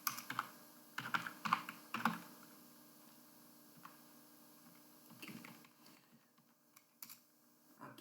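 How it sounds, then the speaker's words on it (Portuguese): Typing on a computer keyboard while entering code, quiet clusters of sharp key clicks in irregular bursts separated by short pauses, close and alone. "Aqui nós vamos digitar o link"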